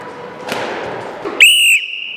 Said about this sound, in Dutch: toen de juf op haar fluitje blies